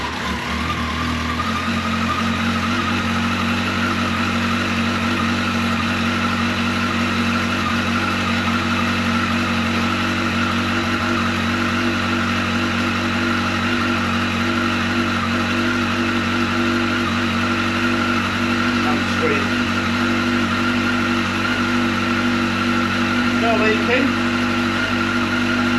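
A Yamaha XJR 1300 SP motorcycle idles with a swapped aftermarket exhaust, giving a steady, close, loud engine drone that holds an even rumble throughout with only slight changes.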